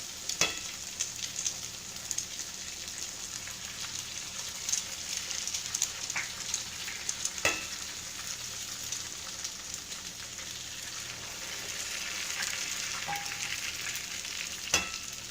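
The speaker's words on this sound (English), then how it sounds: "I've got my sweet potatoes cooking with the shallots and the garlic" Sweet potatoes with shallots and garlic fry gently in a skillet, a soft, continuous sizzle broken by occasional sharp clinks and scrapes of a utensil, fairly quiet and without speech.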